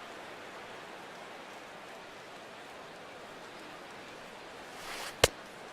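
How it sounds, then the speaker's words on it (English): Steady rain pours down at a ballpark in the baseball video game MLB The Show 17, a soft, even hiss throughout, broken near the end by one sharp, brief knock. "Well, that rain is really coming down right now."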